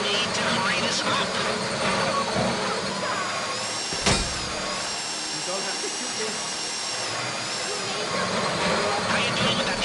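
A drill grinds steadily through a heist in a video game, a continuous whirring mechanical drone that runs throughout under talking voices and game noise, with one brief sharp knock near the middle.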